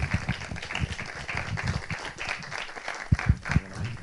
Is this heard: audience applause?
yes